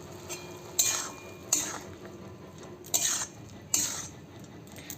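Mushrooms with capsicum and broccoli stir-fried in butter and garlic, four sharp metallic scrapes of a spatula against the pan at a loose rhythm over a low sizzle, close and without talk.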